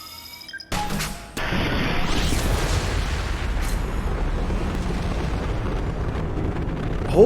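A loud explosion in Mass Effect 2: a sudden heavy blast that swells into a sustained, roaring rumble filling the rest of the moment, with a sharp burst at the very end.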